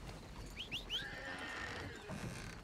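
A horse in the video game Red Dead Redemption 2 gives a short, high whinny that rises and falls, faint and set against steady ambient background noise.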